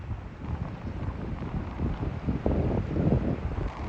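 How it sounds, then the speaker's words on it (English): Strong wind gusts buffet the microphone outdoors beside canoes on open water, a steady low roar that swells and rushes louder in the later seconds, with no voices. "I don't know if you can tell how blowy it is here."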